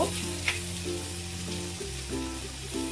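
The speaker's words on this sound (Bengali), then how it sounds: "বেগুনটাকে দিয়ে আর একটু ভাজবো" Eggplant and vegetables frying in oil in a pan, a steady close sizzle with occasional stirring scrapes and a soft pop, with no talking and a low background hum.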